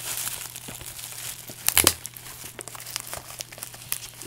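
Parcel packaging is opened and a plastic bag crinkles close by, with scattered rustles and a sharper crunching tear in the middle, no voice over it.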